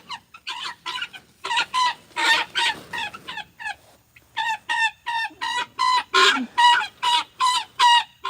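Chickens cluck loudly and rapidly close by, a dense run of repeated clucks with a brief pause midway, no voices.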